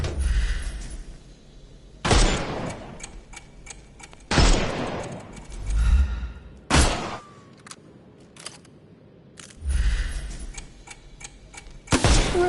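Video game gunfire from a Holmes-themed game comes in loud, sharp bursts, several salvos spaced a couple of seconds apart, each cracking and then decaying, with quieter clicking and ticking game sounds between them.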